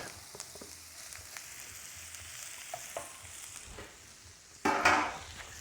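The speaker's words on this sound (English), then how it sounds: "All right, so onion, I'm adding in our mixed veg." Mixed vegetables tipped into onions frying in a pan for a quick creamy chicken dish: a low, quiet sizzle with light stirring, then a sudden louder hiss and clatter as the vegetables land near the end.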